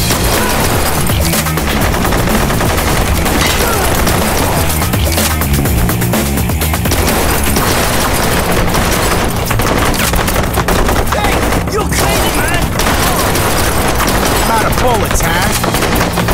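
Gunfire in the video game Blue Estate, loud and continuous, with dense overlapping shots and impacts layered over game music and effects throughout.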